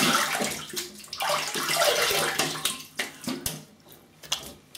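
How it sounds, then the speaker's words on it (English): Cold water running from a tap while something is rinsed under it, a close, splashy gush that rises and falls as the flow is interrupted, ending in scattered drips and splashes. "Let's have a little rinse with the cold water."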